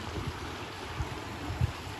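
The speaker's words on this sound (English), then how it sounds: "has a swing for you to sit on and watch and listen to the river" A river flows past a campsite with a swing beside it, a soft, steady wash of moving water heard at a distance, faint and continuous, with a few low bumps.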